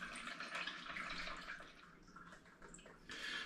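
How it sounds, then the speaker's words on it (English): Blackcurrant cordial poured into spring water, a continuous splashing, gurgling liquid stream, soft and close, swelling and easing slightly before picking up again at the end, with no talking. "So I'm just going to add this into the spring water"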